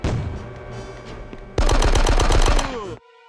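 Rapid automatic gunfire from the Christmas at Nakatomi video game comes in a loud, dense burst of shots after a quieter stretch of game sound, then cuts off sharply into a low tonal hum.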